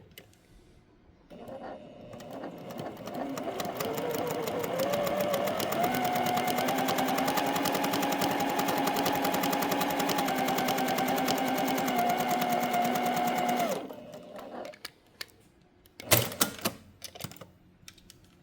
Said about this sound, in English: This is my first time sewing in my studio.